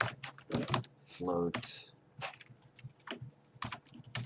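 Keys clatter on a computer keyboard as code is typed for a C# DirectX 3D terrain generator, quick irregular clicks mixed in with someone talking over them.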